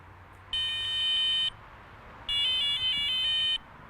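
Sonik VaderX budget electronic fishing bite alarm sounding two separate bursts of rapid high-pitched electronic beeping, each about a second long, close and clear over faint background hiss.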